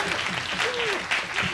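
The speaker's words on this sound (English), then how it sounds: "round of applause for Daniel." Applause rises from those gathered at a city council meeting to welcome the new deputy speaker, a short dense burst of clapping with a voice briefly audible over it.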